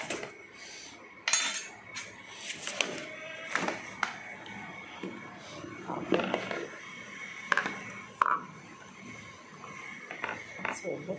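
Dishes and a food container clink and clatter at a kitchen sink in intermittent bursts, with running water and cutlery knocks throughout, up close and moderately loud.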